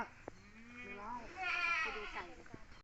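Goats on a farm giving a couple of wavering bleats at close range, mixed with a voice speaking nearby.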